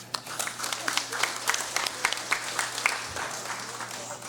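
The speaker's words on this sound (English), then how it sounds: "So I beg that we also give them one more round of applause." Members in a legislative chamber during a congressional special session give a sustained round of applause, a moderate, even clatter of many hands continuing for about four seconds over a low room hum.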